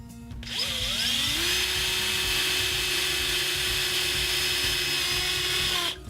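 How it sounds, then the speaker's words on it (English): A power drill spins up and bores through PVC pipe, a loud steady high whine rising in pitch at the start, held for several seconds, then cutting off abruptly. "I want to pre-drill this PVC here, here, and here"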